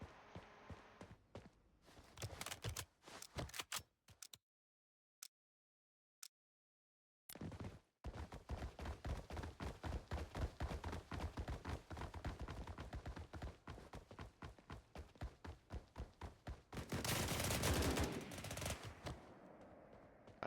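Rapid automatic fire from an M16A2 rifle in the video game BRM5, sharp repeated shots in steady bursts after a brief pause of isolated clicks, loud and close, with a denser volley near the end.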